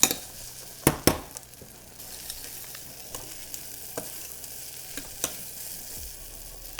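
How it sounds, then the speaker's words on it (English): Onions sweating down in a pan for a puree, a quiet low sizzle with a few sharp utensil clinks against the pan near the start and soft scattered stirring knocks after. "So with these onions for the puree, once they've been sweating down, you really want to make sure it doesn't catch on the bottom"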